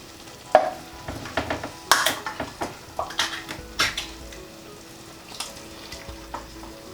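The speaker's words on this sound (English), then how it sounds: "Get the chopped tomatoes in." Tinned chopped tomatoes tipped into a hot pan for a vegan lentil bolognese and stirred, bringing scattered clanks of a spoon against metal and a soft sizzle, with no talk.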